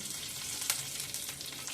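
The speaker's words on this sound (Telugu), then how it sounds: "పోపు దినుసులు వేసేసి అవి కాస్త చిట్టపట్టలాడుతానే కరివేపాకు మిరపకాయ వేసి కాస్త ఫ్రై చేసేసానండి" Curry leaves and chillies fry in oil in a kadai, giving a continuous close sizzle with faint crackles and one brief sharper pop, and nobody speaks over it.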